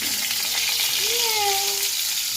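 Stuffed parwal tied with thread frying in a pan, a loud continuous sizzle with a faint tonal whine running through it.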